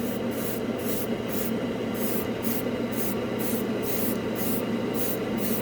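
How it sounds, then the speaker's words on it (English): An airbrush sprays AK Interactive Xtreme Metal paint in a continuous close hiss, pulsing rhythmically with repeated short bursts as the trigger is worked. "you can tell from the first blast from the airbrush, this is really good"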